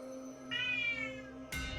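A cat meows in the video game Hades, one drawn-out, slightly falling meow, then a brighter, sharper cry at the end, over a steady game music drone.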